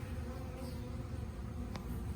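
A swarm of honey bees hums steadily around a hive, about a frame and a half to two frames of bees, giving a constant close buzzing drone with one brief sharper sound near the end.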